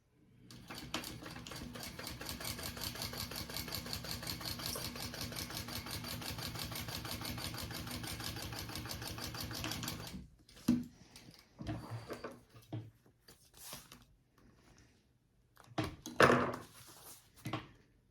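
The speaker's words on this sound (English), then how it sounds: "So now I'm gonna do one more row of stitching right below that one." A sewing machine runs steadily for about ten seconds, stitching a row along a tote bag with a fast, even mechanical chatter. A few sharp clicks and handling knocks follow after it stops.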